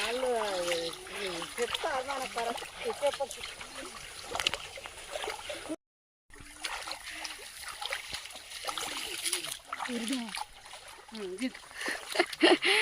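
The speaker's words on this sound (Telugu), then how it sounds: "బురదలకించి నడుచుకుంటూ పోతున్నాం" Feet wade through muddy floodwater on a village path, giving repeated soft splashes and sloshes close by, mostly under people talking.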